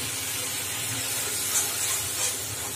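Tomato and green chili paste sizzling in a curry gravy, a steady close hiss of frying and steam running throughout with no talking.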